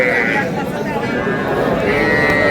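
A young bull calf moos at a crowded Kurigram cattle market, its voice mixed into a loud, constant din of chatter and livestock noise.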